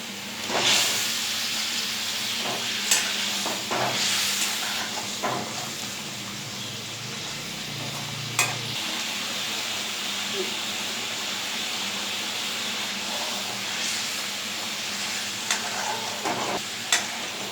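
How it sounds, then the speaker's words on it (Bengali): Fried eggs sizzle in a masala with salt and turmeric for an egg bhuna dish, a steady close hiss and sputter running throughout with occasional stirring knocks and utensil clicks. "এখন এর মধ্যে লবণ হলুদ দিয়ে ভেজে রাখা ডিমগুলো দিয়ে দিতে হবে"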